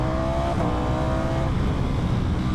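A car engine pulls hard and shifts up, a loud droning roar that drops briefly in pitch at the shift before carrying on, heard close from inside with no talking.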